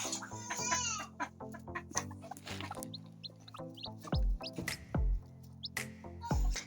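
A hen clucks low and repeatedly while small chicks peep in high, thin chirps nearby, all close and fairly quiet.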